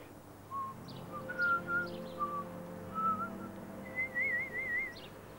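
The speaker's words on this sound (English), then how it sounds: "the gentleman would whistle the tune softly" A man softly whistles a slow dance tune, several short wavering phrases and then a longer trilling one, quiet and close over a faint background hum.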